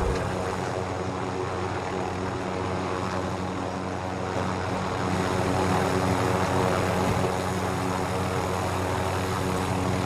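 Helicopter rotor and engine drone held steady and loud inside a Call of Duty Warzone match, a continuous broadband whir with no gaps across the whole stretch.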